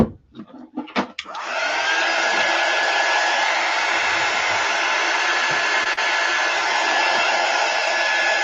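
After a few brief clicks and handling noises, a hair dryer switches on and blows steadily and loudly up close, drying chalk paste on a board with a constant airy whir.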